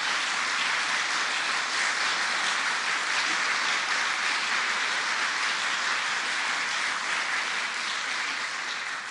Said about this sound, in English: Give New Yorkers a round of applause.